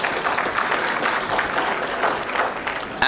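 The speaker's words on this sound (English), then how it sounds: "Round of applause for them, please, folks" Audience at a business growth and resilience conference applauding sponsors and exhibitors, a steady, dense clapping from a large crowd filling the room for the full three seconds at even loudness.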